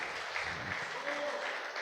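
Church congregation applauding at a couples' gathering, a steady wash of clapping at moderate level throughout, with voices mixed in.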